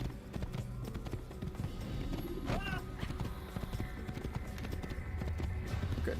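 A horse galloping in Assassin's Creed, its hoofbeats drumming quickly and continuously under a dense layer of game ambience, with a brief whinny partway through.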